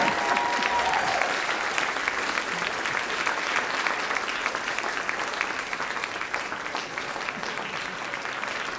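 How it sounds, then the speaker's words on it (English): Loud, sustained applause fills a hall at a spring jazz orchestra concert, dense clapping from a large audience that stays even throughout and slowly eases, with a brief tone at the start. "Give it up for Daniel."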